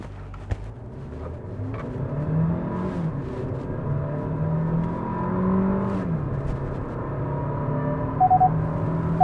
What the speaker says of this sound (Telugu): సరే ఇప్పుడు చూద్దాం స్టార్టింగ్ నుంచి. 0 to 100 9 సెకండ్స్లో వెళ్ళిపోతుంది.